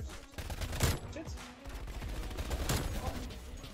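Full-automatic bursts from an EM2 submachine gun in a video game, a dense run of rapid shots with louder flurries near the start and middle, close and continuous, with a voice faintly underneath.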